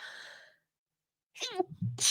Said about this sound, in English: oh my gosh, you made me sneeze.